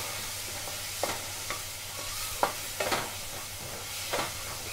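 Maggi noodles with masala being stirred in a pan, a soft frying sizzle broken by several distinct spatula scrapes and knocks at irregular intervals.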